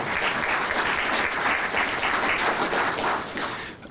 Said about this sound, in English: if we could give a quick round of applause for them as well